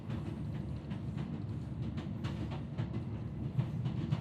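A night train rolls steadily along the rails, a continuous low rumbling drone with faint rhythmic clatter, heard from inside a carriage without any voices.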